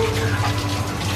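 Water runs steadily from a shower while someone bathes, a constant close hiss of spray with no voices over it.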